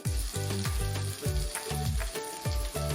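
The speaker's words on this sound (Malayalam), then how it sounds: "ടൊമാറ്റോ കട്ട് ചെയ്ത് ഇട്ട് കൊടുക്കുന്നു." Chopped tomato and turmeric sizzle in a pan for beef soya chunks peratt, the close frying hiss punctuated by a regular run of soft knocks and scrapes from stirring.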